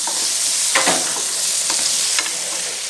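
Spice paste of chilli, turmeric and ground coriander being stirred and cooked in a pan for a Sunday dinner, a steady soft sizzle with several brief scraping stirs, fairly close, no talking.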